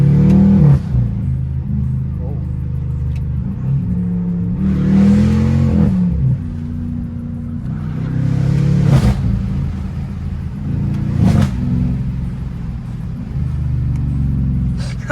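BMW 550i with catless downpipes and straight pipes revving repeatedly, deep throaty engine surges rising and falling with crackling pops, heard from inside the car with occasional voices.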